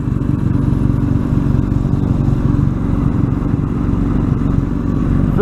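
A motorcycle being ridden on the road, its engine running steadily and loud throughout with a continuous mid-pitched drone and slight variations in revs; no talk is heard.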